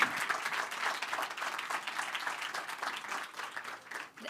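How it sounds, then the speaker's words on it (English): An audience claps steadily for a group of researchers at a Falling Walls Lab event, a dense, even wash of applause lasting throughout with no voices on top. "I would really kindly ask you to give a very, very big round of applause to our very brave researchers here today."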